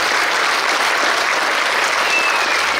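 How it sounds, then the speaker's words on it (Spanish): Crowd at a local festival in Huehuetlán el Chico, Puebla, applauds the local authorities, a loud continuous wash of close clapping with no gaps. "un aplauso para nuestras autoridades que han aprendido este"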